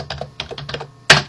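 Close typing on a computer keyboard in a CAD drafting session, a few quick key clicks followed by one louder, sharper keystroke at the end.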